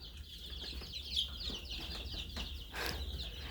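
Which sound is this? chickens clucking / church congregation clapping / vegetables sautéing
chickens clucking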